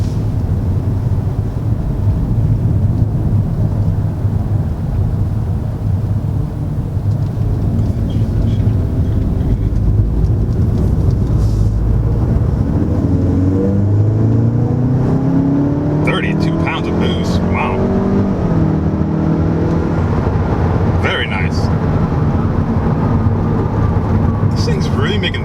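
A 2019 VW Golf R's engine pulls hard under acceleration, a loud, sustained in-cabin drone with rising harmonic sweeps, and someone talks over it throughout.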